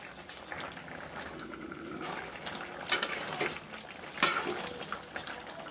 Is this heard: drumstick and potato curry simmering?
yes